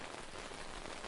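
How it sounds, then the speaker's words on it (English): Rain patters against a window in a steady, soft, dense hiss with no talk. "Rain softens against the window."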